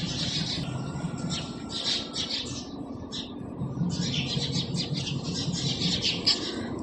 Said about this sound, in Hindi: चिड़ियाँ बहुत बोल रही थी माशाल्लाह से